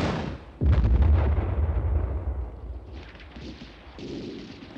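Soldiers fire into the air in a wartime setting: a heavy, booming shot lands after a short lull, then rumbling reports echo and fade, followed by further distant blasts.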